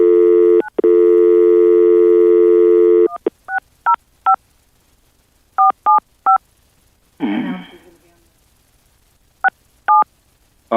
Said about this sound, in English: Sheriff Pat West, as part of this hearing, we're going to get Trent with State Radio on the phone.